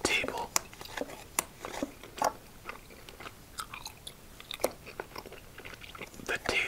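ASMR gum chewing, with close, soft wet mouth clicks and smacks in an irregular rhythm, mixed with quiet whispering throughout.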